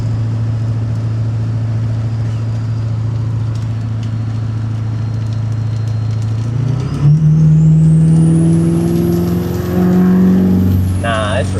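A 6.0 diesel truck drones steadily at speed, then its engine note climbs abruptly as it accelerates hard, loud and close from inside the cab, with voices partly over it.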